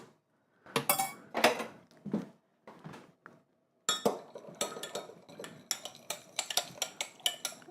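A metal spoon stirs eggnog in a cup or bowl, clinking and scraping against the sides in quick irregular taps. The strokes are close and fairly quiet, separated by brief pauses.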